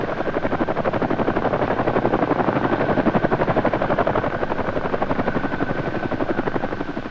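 Loud, continuous rhythmic thudding of helicopter rotor blades with a steady engine whine, close by and unbroken.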